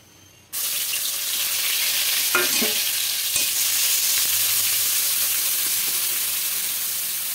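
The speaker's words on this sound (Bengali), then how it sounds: "এবার এখানে পেঁয়াজের পেস্টটা দিয়ে দেবো।" Onion paste sizzles and crackles in hot oil after an abrupt start, a steady loud frying hiss with a few stirring scrapes, no voices.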